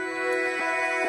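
A brief sustained tone from the Porphyra wavetable synthesizer by Ocean Swift, steady and buzzy with many bright harmonics, playing alone.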